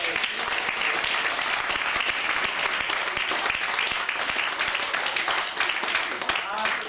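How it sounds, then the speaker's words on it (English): Dense, sustained applause from a wedding audience after the speeches, many hands clapping steadily and close for several seconds without pause. "could I please have a round of applause for all the speeches tonight"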